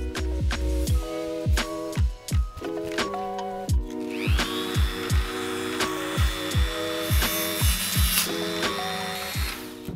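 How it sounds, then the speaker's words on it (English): A power tool cuts through the fine tip of a fishing rod blank, a steady high whine running for several seconds under a repeating series of sharp percussive knocks and clicks, loud and close. "you'll cut through that fine tip without causing any damage"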